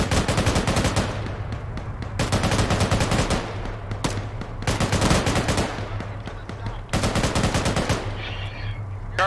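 Gunfire in the Arma 3 military game, several loud, close bursts of rapid automatic fire separated by brief pauses, with a low vehicle hum running underneath.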